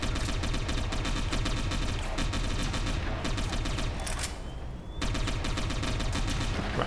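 Rapid bursts of gunfire erupt during a firefight in the cyberpunk video game Satellite Reign, dense automatic shots rattling almost continuously with a brief lull and a rising whine before the shooting resumes.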